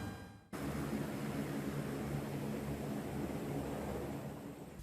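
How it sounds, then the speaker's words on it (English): A loud, steady roar of military plane cabin noise kicks in abruptly and continues as an unbroken droning hiss. "enduring the noise and vibrations of the military plane"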